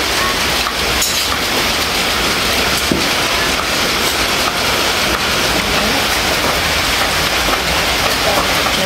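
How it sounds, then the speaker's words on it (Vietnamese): Rain and wind as a steady, loud, dense hiss that runs unbroken throughout, with a voice speaking briefly within it. "Trời mưa gió."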